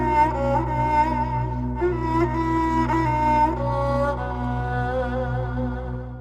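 A classical pear-shaped Turkish kemençe, a small bowed fiddle, plays a gliding, ornamented melody over a steady low drone, played alone with no voices.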